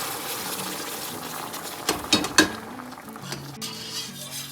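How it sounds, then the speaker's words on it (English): Stock is poured into a pan of hot brown roux for turkey gravy, giving a steady pour and sizzle with three sharp splattering bursts near the middle, then settling into a softer bubbling hiss. "Now I'm going to add the stock into the pan with the roux"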